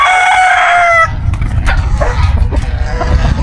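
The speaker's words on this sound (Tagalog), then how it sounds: "Lalagay mo na yung manok dyan" A rooster crows loudly and close by for about a second, followed by scattered clucks and a dog-like bark over low rumbling background noise.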